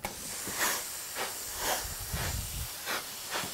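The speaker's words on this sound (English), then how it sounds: "remembered to put water in my iron, which creates steam" A clothes iron releases steam in a series of soft hissing bursts, about five puffs spaced roughly a second apart, each rising and fading. They sound close and moderate in level against a quiet room.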